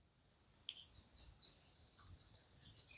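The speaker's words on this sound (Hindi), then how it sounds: "क्या पक्षी बोल रहे हैं, वाह वाह वाह वाह" Birds chirp outdoors in spring among trees and greenery, a run of thin, high tweets at moderate distance over faint background ambience, with no talking.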